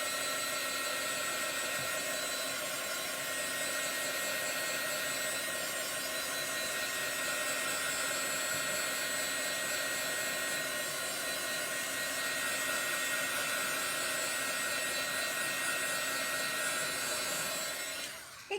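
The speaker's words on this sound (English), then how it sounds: "I'm going to grab here my heat tool" A craft heat tool blows hot air to dry chalk paste on a small door tag, a steady close whooshing whine that holds for nearly twenty seconds before cutting off.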